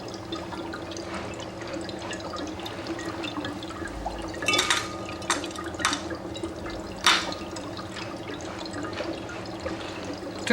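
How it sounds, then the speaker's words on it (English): Dry ice bubbles violently in colored water inside a tall graduated cylinder, a steady fizzing and gurgling with a few louder bursts and splashy pops, fairly quiet and heard alone. "so you can see really how the bubbles form in a violent fashion"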